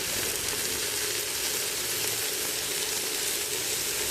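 Sliced mushrooms and onions sizzle and fry steadily in a hot pan with turmeric, a continuous dense crackling hiss with no voices over it.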